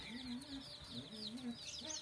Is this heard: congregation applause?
no